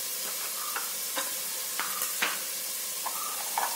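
Vegetables and masala frying in oil in a pan, a steady hiss with scattered sharper crackles and the scrape of stirring, close and moderately loud, with no voices.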